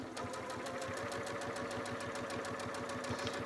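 A sewing machine with a 1/4 inch foot stitches a quilt seam, producing a fast, even mechanical chatter of needle strokes, close and steady throughout, with no talking.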